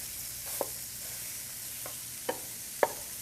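Ground beef frying in a pan to cook off the fat, giving a steady soft sizzle with a few sharp scrapes of stirring scattered through.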